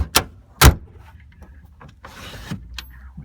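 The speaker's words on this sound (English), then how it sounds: "Window closes." Window of a Fiat Topolino being wound shut: two sharp knocks, then a short scraping slide of glass and a final click, close by with no talking.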